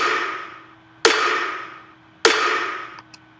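Two crisp, punchy layered snare drum hits, EQ'd for brightness, crack about a second apart, each ringing out with a bright decaying tail, followed by a couple of faint small ticks.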